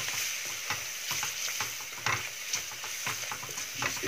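Beetroot curry stirred with spices such as coriander powder in a pan, repeated spoon scrapes over a soft fry sizzle in a fairly even rhythm, close and moderately quiet.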